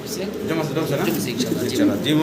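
A pair of fancy Stacer blue barless pigeons coo softly and continuously, close by, beneath someone talking.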